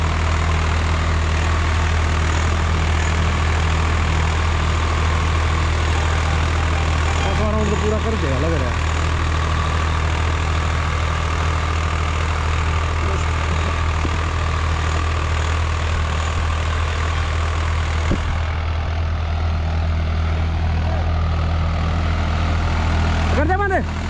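A 2023 Swaraj 855 FE tractor engine runs steadily nearby in a loud, low, droning idle, while people talk over it.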